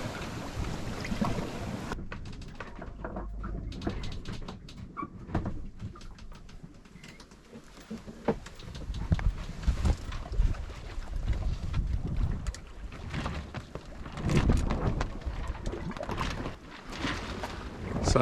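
A small sailboat moves slowly at sea on a passage toward the Canary Islands, with steady wind buffeting the microphone, rushing water along the hull and occasional creaks and knocks, no voices.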